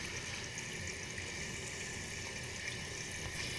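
Water steadily filling a bathroom toilet tank, a continuous, even hiss and rush with no breaks, fairly quiet and close, heard alone without talk.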